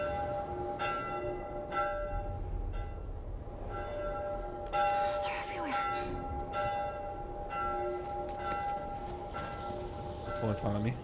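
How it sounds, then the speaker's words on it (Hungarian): Church bells ring an alarm in the video game The Last of Us Part I, repeated clanging strikes over about eleven seconds at moderate distance, with faint game sounds beneath. "Nagy riadózás, harangozás meg."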